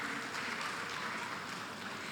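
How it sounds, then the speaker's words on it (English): An audience at a primary school graduation claps steadily, a soft, dense patter of many hands heard from a distance that fills the whole moment. "Round of applause, please."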